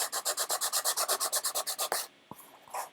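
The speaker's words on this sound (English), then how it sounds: "when I'm done sanding this" Fast, even back-and-forth rasping strokes as a cosplay piece is hand-sanded up close, stopping abruptly after about two seconds, followed by a few light knocks and rubs.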